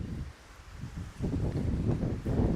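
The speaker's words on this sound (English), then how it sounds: "Nice and windy, I love it." Wind blowing outdoors at a western roping and shooting practice area, gusting buffets rumbling against the microphone in uneven surges, loud and close.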